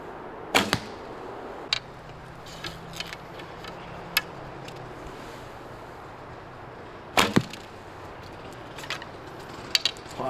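Arrows loosed from a Sanlida X8 traditional takedown recurve bow, sharp wooden thwacks at scattered intervals, with a couple of stronger cracks standing out against a quiet outdoor background.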